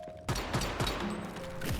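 Rapid LMG gunfire with explosive rounds in the survival shooter Once Human, a dense burst of sharp repeated shots and booms from close up, loud and continuous after a brief quiet start.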